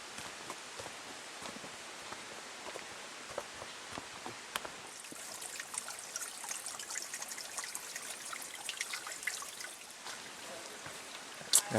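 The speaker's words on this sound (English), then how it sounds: "Our path has turned into a creek." Rainwater running down a forest hiking track in a continuous shallow trickle, close and steady, with scattered splashes and drips and no one speaking.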